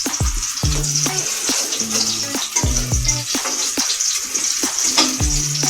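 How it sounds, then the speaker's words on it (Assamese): Bitter gourd fries in hot oil in a pan, a constant close sizzle with scattered crackles and occasional scraping clinks of a utensil stirring. "অকণ ভাজ খোৱালৈকে মই ভাজি থাকিম।"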